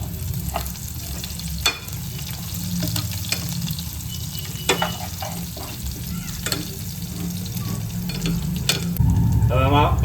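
Chopped chillies sizzle steadily in hot oil while a spoon scrapes and stirs the pan with intermittent clinks, a continuous close frying hiss with no voices.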